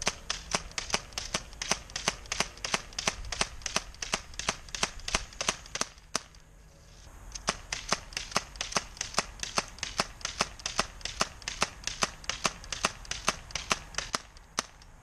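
Rapid, steady series of sharp snapping shots from a Daisy Model 74 BB gun firing round after round, close and crisp, with a brief lull around the middle before the regular shooting resumes.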